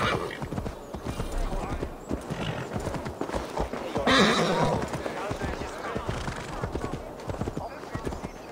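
Rapid clip-clopping hooves pound steadily throughout, with a horse's whinny rising partway through, loud and close, in the video game Assassin's Creed Valhalla.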